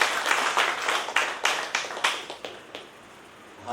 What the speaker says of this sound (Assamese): জোৰকৈ এটা হাত চাপৰি।